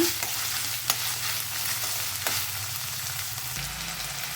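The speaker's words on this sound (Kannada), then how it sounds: "ಈರುಳ್ಳಿ, ಇದೆಲ್ಲ ಚೆನ್ನಾಗಿ ಬ್ರೌನ್ ಕಲರ್ ಬರೋ ಥರ ಫ್ರೈ ಮಾಡ್ಕೊಳ್ಳೋಣ" Onions frying in a pan to brown for a Karnataka soppu bele uppsaaru, a steady close sizzle with a few soft stirring scrapes and no talk.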